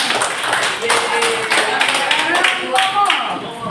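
Students clap their hands in a junior high school mathematics class, a dense burst of claps running throughout with a teacher's voice talking over it.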